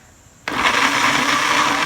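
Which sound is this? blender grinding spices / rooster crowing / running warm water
blender grinding spices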